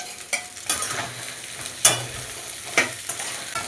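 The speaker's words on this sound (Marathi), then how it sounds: "चला मी भेंडी टाकून घेते मध्ये।" Finely cut okra tossed into a hot pan and stir-fried, with a soft sizzle under several sharp scraping stirs spaced about a second apart, quiet and close.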